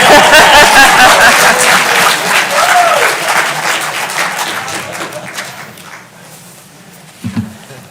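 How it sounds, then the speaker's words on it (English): An audience at a county public hearing bursts into loud applause that starts at full strength and gradually fades out, with a brief final thump near the end. "You can clap for that."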